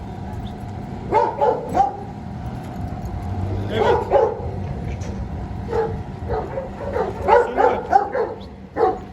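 Dogs bark in scattered bursts, some yips among them, from a short distance, with a brief spoken word mixed in.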